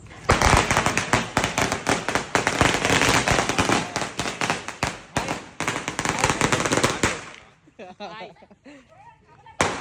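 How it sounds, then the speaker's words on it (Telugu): Diwali firecrackers burst in a dense, loud barrage of rapid cracks and bangs for about seven seconds, then give way to scattered pops and fizzing under voices. "విశాల్ గారి గారి ఇంటికాడికి వచ్చి మన ఆ బాంబులు తీసుకుపోయి మన సాయి గారి ఇంటికాడ వేరుతాం."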